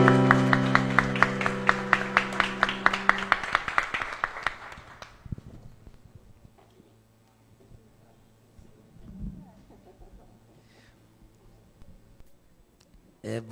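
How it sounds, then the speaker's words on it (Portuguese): Church congregation clapping for a pastor, a rhythmic, fairly close round of handclaps over music that fades out after about five seconds, followed by quiet room sounds and brief faint voices. "Dá para aplaudir?"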